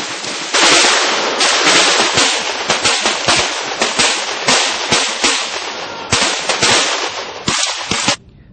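Rapid bursts of gunfire from military combat training crack out nearly nonstop for about eight seconds, loud and close, with brief gaps between volleys and no voices.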